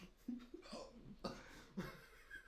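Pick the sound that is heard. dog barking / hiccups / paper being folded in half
hiccups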